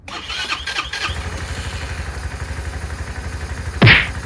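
A Chinese 150cc motor scooter engine cranks with a rattling starter, catches, and settles into a steady, close idle with rhythmic putter, ending in a sharp loud clunk near the end.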